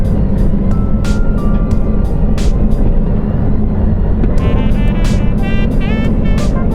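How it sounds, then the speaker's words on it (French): A Scania R580 truck's exhaust brake rumbles loudly and continuously while descending a mountain pass on the N7, with a deep steady drone and rapid tonal burbles and pops layered over the engine noise, close up from the cab. "Je vais mettre juste du ralentisseur à l'échappement, donc la commande au pied. C'est ce qui fait ce bruit si particulier."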